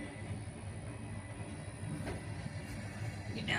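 A freight train with blue tank cars rolls past close by, a steady broad rumble with faint rail squeal and clatter building toward the end, no talk.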